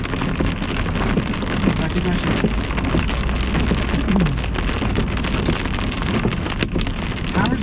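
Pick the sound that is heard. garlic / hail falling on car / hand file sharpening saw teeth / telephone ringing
hail falling on car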